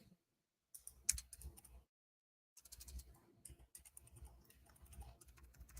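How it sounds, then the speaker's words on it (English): Fingers tap on a computer keyboard in quick uneven bursts, with a short pause early on and faint clicks close by in a quiet room. "My fingers are not in the right spot on my keyboard."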